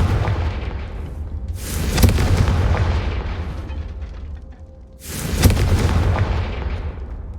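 Two booming Confringo spell explosions in the Hogwarts Legacy video game, each a loud broadband blast with a crackling tail, about three seconds apart over a steady low rumble.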